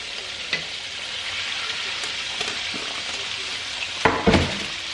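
Thick chicken breasts deep frying in hot oil for Southern fried chicken, a steady close sizzle and bubbling with a few brief clinks and splatters, louder toward the end.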